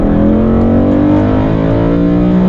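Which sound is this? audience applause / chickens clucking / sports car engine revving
sports car engine revving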